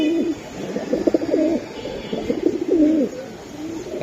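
Silver pigeons coo steadily in repeated, rolling phrases close by, several calls overlapping across the whole stretch with little pause between them.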